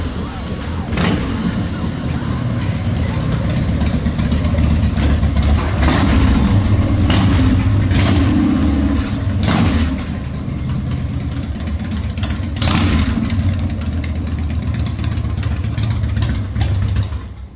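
A 154-horsepower Harley-Davidson Dyna FXDX V-twin engine runs loud and close, idling roughly and then revving in repeated bursts over about seventeen seconds.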